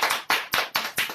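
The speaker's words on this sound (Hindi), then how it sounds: "जबरदस्त तालियों के साथ हम सर को वार्म वेलकम करेंगे" Applause from a group welcoming a guest at an online business meeting, with steady bursts of clapping that rise and fall in quick waves, loud and close, with no talk.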